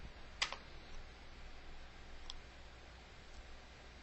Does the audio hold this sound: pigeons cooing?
no